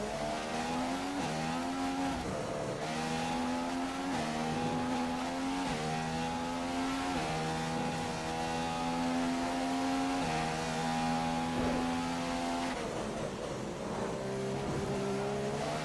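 McLaren Formula One car engine in the F1 2015 racing game at the Australia circuit, high-pitched wail rising through repeated upshifts and dipping on downshifts, continuous and loud with faint tyre noise.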